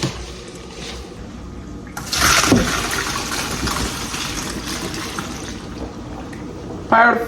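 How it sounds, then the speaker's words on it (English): Water from cooked pasta gushing out as the pot is drained into a sink, a splashing pour starting after a couple of seconds and running steadily, with a brief louder splash near the end. "I'm gonna drain my pasta."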